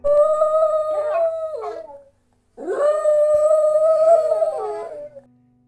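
A dog whines in two long, high, wavering cries separated by a short pause, close and loud, with no other sounds around.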